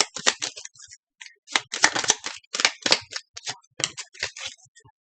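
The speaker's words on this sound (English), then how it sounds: "while I shuffle through these here cards one more time" A deck of tarot cards is shuffled by hand in close, crisp bursts of riffling and flicking, irregular clusters of papery clicks separated by brief pauses.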